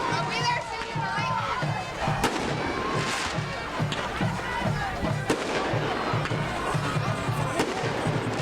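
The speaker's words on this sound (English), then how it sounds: "And there's the fireworks," Fireworks go off at a Friday night high school football game between Basile and Gueydan. Several sharp bangs and pops ring out over a steady roar of the crowd, with an announcer talking throughout.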